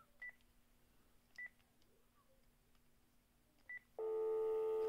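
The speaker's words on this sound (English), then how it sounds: "you should hear a dial tone eventually." A landline phone connected through a cell2jack adapter gives three short, spaced tone beeps over a quiet hiss, then a loud, steady dial tone starts and holds to the end.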